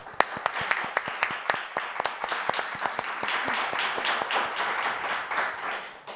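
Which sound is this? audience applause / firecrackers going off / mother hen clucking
audience applause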